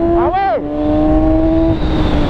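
A 2017 Kawasaki Z1000R motorcycle accelerating hard along a short straight, its engine note climbing steeply and then dropping at a gear change before steadying into a loud, sustained drone close by.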